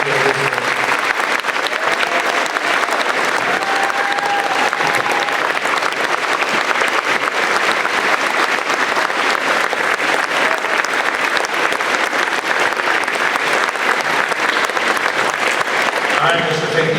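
An awards-night audience delivers long, steady applause, a dense, close wall of clapping that runs unbroken for around seventeen seconds, with faint voices mixed in beneath it.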